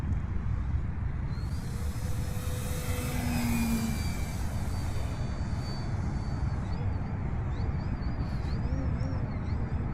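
An E-flite Ultimate 3D RC aerobatic plane drones steadily through its maiden flight, its electric motor whining in a continuous hum with pitch shifts as it maneuvers, heard from a moderate distance over wind noise.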